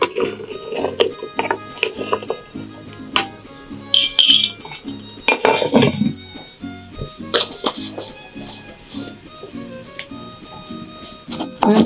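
Pot of mole de olla with bone marrow being stirred, with repeated clinks and scrapes of a utensil against the pot and scattered clatter over a faint background of music-like tones.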